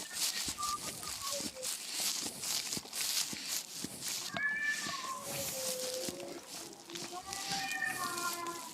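A cat meows repeatedly while a raven pesters it, drawn-out whining cries rising and falling over rustling and footsteps, with someone talking over the calls.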